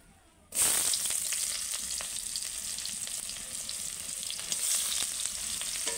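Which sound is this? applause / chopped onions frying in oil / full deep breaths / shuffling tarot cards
chopped onions frying in oil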